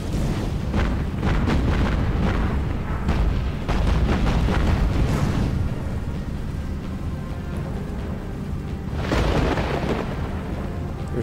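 A warship's magazine explodes in the Battle Stations Pacific naval combat game, with loud, heavy booming blasts and rumbling that roll on continuously, then a fresh burst of explosion near the end.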